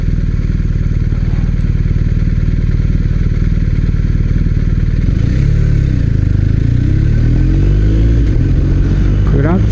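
A BMW R1250RS big-bore twin motorcycle rides through city streets, its engine a steady low drone that rises and shifts as it accelerates partway through, with someone talking over it.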